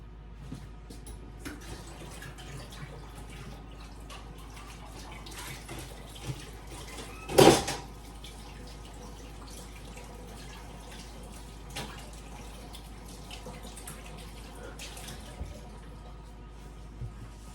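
Running tap water washes out a bowl that held a spoiled egg in a home kitchen, a steady close rush and splatter with one brief louder splash midway.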